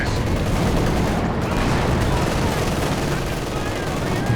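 Dense, continuous gunfire and explosions from a Company of Heroes 2 battle, a loud unbroken fusillade with machine-gun bursts and booms filling the whole stretch.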